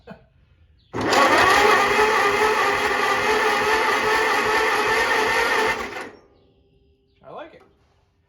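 An old Farmall C tractor engine cranks on its starter in one loud, steady, continuous grind lasting about five seconds, then stops abruptly; a brief voice follows afterward.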